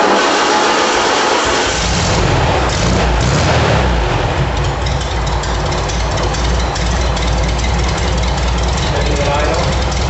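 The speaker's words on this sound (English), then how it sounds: "Motor sitting on an engine stand, getting ready to start it up." An Okrasa engine mounted on an engine stand cranks and fires up after a couple of seconds, then settles into a loud, close, throbbing run with a rough knocking pulse that continues to the end.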